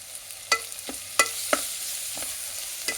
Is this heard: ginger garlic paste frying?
yes